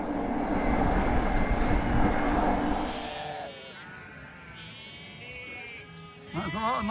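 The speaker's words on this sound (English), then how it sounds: "That's a lot of noisy sheep." A flock of freshly shorn sheep on a Welsh mountain near Fan Fawr bleats repeatedly, several overlapping calls nearby and fairly loud, after a stretch of steady wind and riding noise from a mountain bike.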